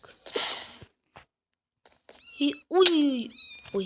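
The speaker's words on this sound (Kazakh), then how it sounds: "Мысықтар мияулап отыр ғой." Cats meow a few times in Minecraft, drawn-out cries following a burst of rustling noise and faint thumps, with a short spoken exclamation.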